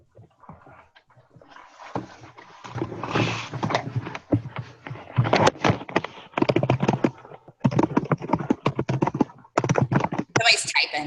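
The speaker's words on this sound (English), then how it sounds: "Somebody's typing vigorously." Someone types vigorously on a computer keyboard, rapid bursts of close, sharp clicks and clacks in uneven runs separated by short pauses, growing busier toward the end, with no talk over it.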